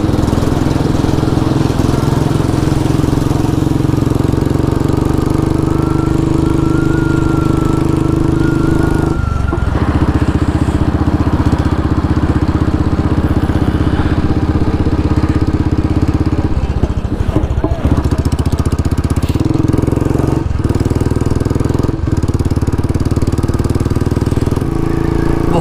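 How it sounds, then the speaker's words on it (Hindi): Engine of a new Bullet motorcycle running roughly with a suspected blocked piston, a loud continuous uneven drone with irregular dips and catches, close up and steady throughout, with no voices. "इसका इंजन उड़ जाएगा भाई"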